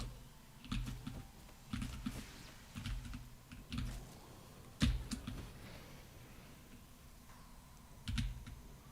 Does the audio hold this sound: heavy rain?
no